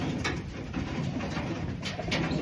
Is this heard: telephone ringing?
no